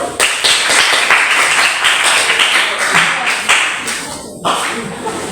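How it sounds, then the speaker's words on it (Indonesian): A classroom group applauds a presenting student team, dense clapping from many hands filling the room steadily for several seconds before tapering off, with a murmur of voices underneath. "Kita berikan tepuk tangan untuk kelompok 1."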